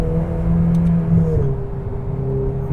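A 2018 Ferrari 488 Pista on the Fiorano track easing off the throttle, its engine note dropping from a loud, steady drone to a lower, softer hum.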